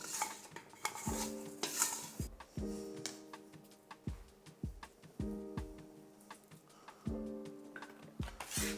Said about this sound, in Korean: 스크래퍼를 사용해서 깔끔하게 빼줄게요